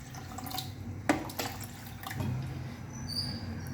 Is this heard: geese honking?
no